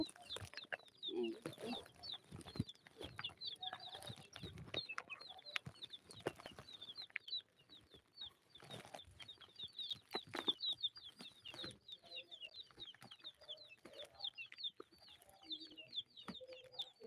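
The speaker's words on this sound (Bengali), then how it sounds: "আমাদের মুরগির বাচ্চাগুলো" Chicks peep and cluck continuously, a busy chorus of high, rapid calls from close by, with scattered knocks and rustling underneath.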